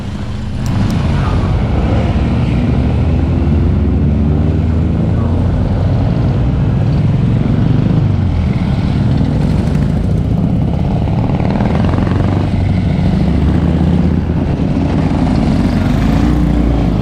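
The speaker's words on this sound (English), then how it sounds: "You can see the mix of combinations and 3-wheelers coming out the holding" Racing sidecar motorcycles and three-wheelers pulling out of the holding area at a race meeting: a loud, continuous drone of several engines revving together, rising and falling steadily throughout without pauses.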